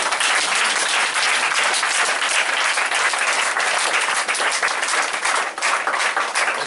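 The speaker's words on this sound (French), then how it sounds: "Acclamer le Seigneur." A church congregation applauds and cheers to acclaim the Lord, a dense, loud, continuous wash of clapping from many hands that holds steady throughout.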